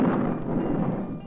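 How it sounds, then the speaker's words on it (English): Thunder rumbling, a brief low rolling boom that fills the short stretch alone without any talk over it. "Thunder rumbles."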